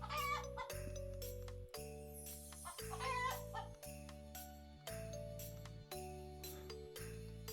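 Cartoonish chicken clucks pop out over a looping, chiming game soundtrack in the card game Terracards, quiet and repeating in short bursts.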